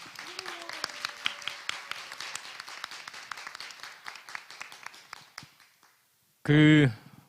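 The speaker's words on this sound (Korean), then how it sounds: "뜨거운 박수로 시작하겠습니다" Applause from an audience at a book concert, a dense run of claps lasting about six seconds and fading out, followed by a short loud musical or tonal burst near the end.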